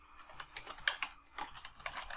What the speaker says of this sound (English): I'm going to type in my account information.